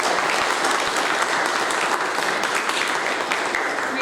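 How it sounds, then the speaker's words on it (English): A crowd claps steadily and loudly, sustained applause filling the room without pause. "a huge round of applause"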